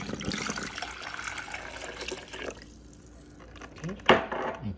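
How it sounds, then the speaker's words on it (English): Water pours into a Gevalia KA-865MW coffee maker's reservoir with a splashing, filling sound, then a pause and a brief clatter of plastic near the end. "I'm going to put a glass of water."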